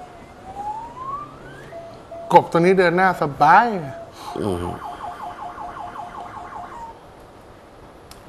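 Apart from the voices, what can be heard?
ambulance siren in traffic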